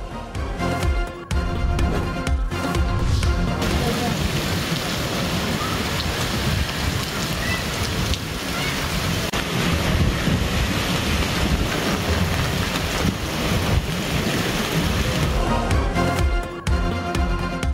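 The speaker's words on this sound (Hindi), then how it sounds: "मरी में मूसलाधार बारिश के साथ यालाबारी।" Torrential rain with hail pouring down in Murree, a dense, loud, continuous roar that holds steady for nearly the whole stretch before easing slightly at the end, with no voices.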